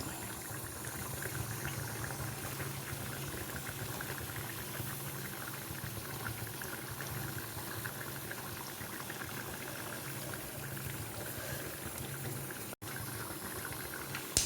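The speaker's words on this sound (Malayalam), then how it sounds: "കടുക് പൊട്ടി" Mustard seeds popping in hot oil in a pan, a dense steady crackle and sizzle running without a break, close and fairly loud.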